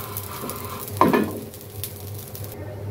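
Dried taki fish sizzles and crackles in a pan over high heat, with one loud stirring scrape early on, then the frying settles into a quieter crackle close by.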